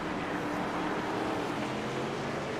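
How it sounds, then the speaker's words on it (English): NASCAR stock cars in a racing video game roar past in a dense, continuous engine wash, loud and steady with no break. "I love the sound of these engines as they whiz past"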